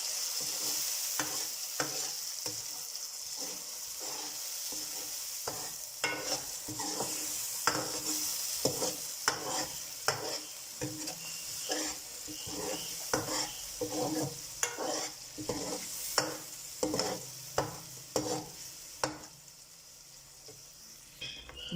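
Onions frying with ginger, green chilli and garlic paste and tomato, stirred with steady rhythmic scrapes in a hot pan under a constant sizzle, close and fairly quiet.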